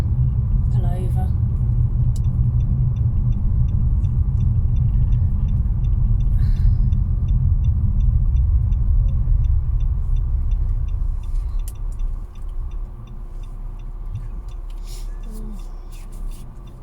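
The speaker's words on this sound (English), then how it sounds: "Oh crikey, there's a big lorry coming up." A big lorry passing on a road, a loud, heavy engine rumble that dominates the first twelve seconds and then fades, with a voice talking over it.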